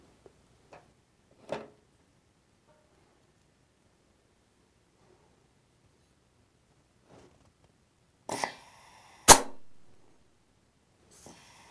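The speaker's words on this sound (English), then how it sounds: "Apply air pressure to the port." Compressed air is applied to a port on a Ford 4R70W automatic transmission with solid sealing rings. The bench is otherwise quiet, with a few faint taps, then two short, sharp bursts of air hiss close by.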